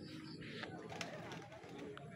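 A racing pigeon coos softly on arrival at its loft after a training flight, faint low burbling calls under quiet background noise.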